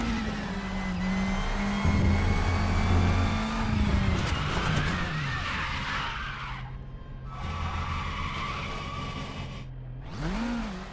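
A racing car in the RaceRoom video game spins out on a track corner exit, tires skidding and squealing in long sweeping tones over a droning, revving engine, loud and close with no talking.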